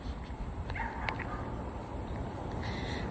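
A dog left behind at the house barks and whimpers from some distance, its yips faint and set against steady outdoor background noise.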